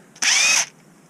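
Short whirring burst of an impact ratchet working a bolt out of an R380 gearbox, lasting about half a second at close range, then quiet.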